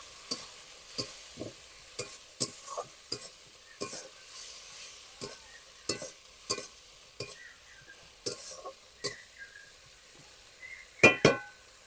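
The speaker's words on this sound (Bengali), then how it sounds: "এখন দিয়ে দিচ্ছি আমি হলুদ গুঁড়ো আর দিচ্ছি রঙের জন্য একটু লাল লঙ্কার গুঁড়ো কষিয়ে নিতে হবে" Turmeric and red chilli powder stir-fried in a pan: a quiet sizzle under regular spoon scrapes and taps against the metal, ending in two louder clinks.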